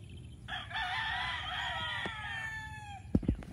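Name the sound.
chicken/rooster crowing and clucking on a farm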